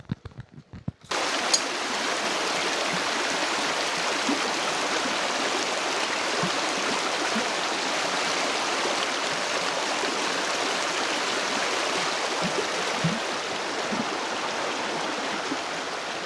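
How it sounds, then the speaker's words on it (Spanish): A mountain stream rushes steadily in the countryside about 45 minutes from Medellín, Colombia, its full, hissing flow constant and close after a brief quiet start. "Les voy a poner el agua en el sonido."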